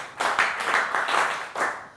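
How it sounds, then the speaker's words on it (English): A school class claps briskly together in a short burst of applause, close and lively, lasting a couple of seconds. "Clap for Rashida."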